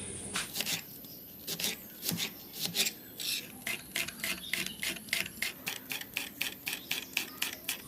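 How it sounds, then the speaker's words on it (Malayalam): Onions sliced with a knife on a cutting board for pakkavada, a quick steady run of sharp chopping taps, close and alone. "പക്കവടയ്ക്ക് വേണ്ട ഉള്ളി കട്ട് ചെയ്തെടുക്കാം."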